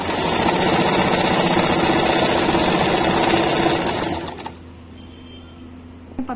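An electric sewing machine stitches underwear fabric in a fast, steady buzzing run for about four seconds, then stops, leaving faint room noise and a small click at the end.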